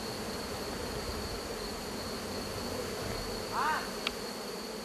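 Wild bees swarm around a honeycomb on a mountainside in Indonesia, a steady, close droning buzz with a brief rising whine and a sharp tick near the end.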